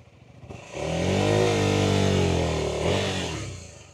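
Royal Enfield Himalayan or KTM 390 ADV motorcycle revving hard on an off-road trail, one sustained close, loud engine rise from about 0.7 s that dips briefly near 2.9 s before climbing again and fading.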